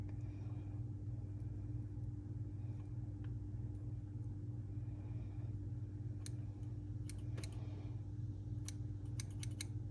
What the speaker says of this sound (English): If I can find my scissors.